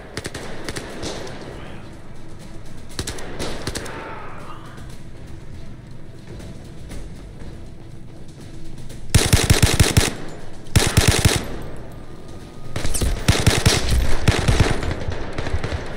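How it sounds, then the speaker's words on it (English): Automatic gunfire in the VR shooter Zero Caliber, loud rapid bursts of machine-gun fire arriving in several separate volleys, with quieter scattered shots and ambient battlefield noise between them. "Who's shooting at me?"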